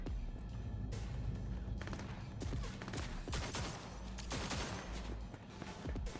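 Rapid bursts of gunfire in Cyberpunk 2077, loud, dense and close, overlapping in a fast stream of cracks and booms with no talk over them.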